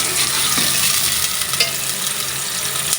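Onions browning in a pan give a steady, close hiss of frying with faint stirring clicks, continuous and unbroken throughout, with no talking.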